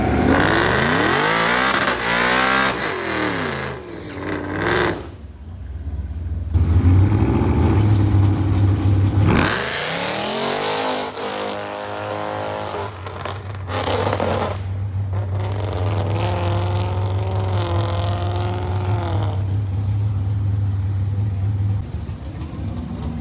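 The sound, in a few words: Whipple supercharged 2018 Mustang GT500 making a drag strip pass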